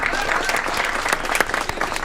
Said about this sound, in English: Another round of applause for Kara.